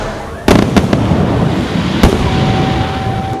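Loud firecrackers go off during New Year celebrations, several sharp bangs in quick succession and then another isolated blast over a background of crackling and crowd noise.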